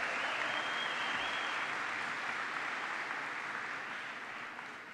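Audience at a Bishop's University convocation ceremony applauds in a dense, steady wash of clapping that slowly fades over five seconds.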